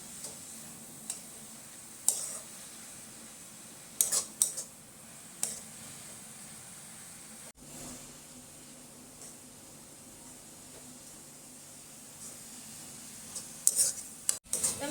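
Carrot halwa roasting in ghee is stirred steadily in a pan, with soft scraping and faint sizzling running throughout and occasional sharper clicks of the spoon against the metal, close and fairly quiet, with no talking.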